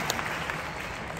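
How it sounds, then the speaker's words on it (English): Crowd applause at the London International Horse Show after a young rider's round on her pony, a short burst of steady, dense clapping from an arena audience with no voices over it. "Give her a round of applause."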